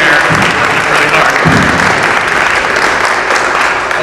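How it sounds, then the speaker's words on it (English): Loud, close applause from an audience at a morning event rolls on in a thick, continuous patter of clapping, with faint crowd voices mixed underneath. "So we got to give them a round of applause"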